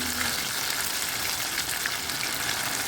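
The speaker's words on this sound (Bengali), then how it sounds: "আমি এখানে লোহার কড়াই ব্যবহার করছি, যার জন্য দেখুন ভাজাটা খুব সুন্দরভাবে হচ্ছে।" Small Bombay duck fish fry in oil in an iron wok, giving a dense, even sizzle heard close and steady for a few seconds without talking.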